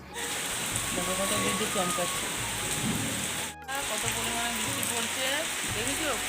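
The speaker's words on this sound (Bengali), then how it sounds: "খুব বৃষ্টি হচ্ছে বন্ধুরা" Heavy rain pours steadily outside, a dense, loud hiss that fills the whole stretch with only a brief dip, while a person talks over it.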